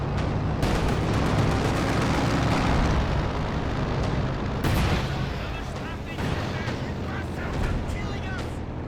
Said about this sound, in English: Sounds like the LFH firing on the base again.